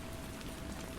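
Steady rain falling on a surface, soft and continuous with a dense wash of drops and no distinct individual splashes.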